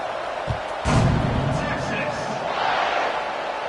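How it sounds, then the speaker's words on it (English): Stadium crowd at a Penn State college football game buzzing after a score, a steady broad roar under commentary, with a thud near the start. "this crowd is buzzing after that last score"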